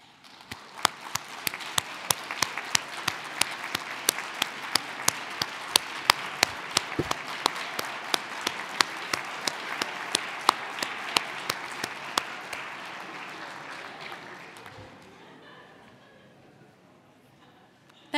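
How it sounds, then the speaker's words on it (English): Audience at a Webster University graduation toast applauds steadily for about fifteen seconds, sharp individual claps standing out over the crowd before it fades away. "we want to give you a round of applause."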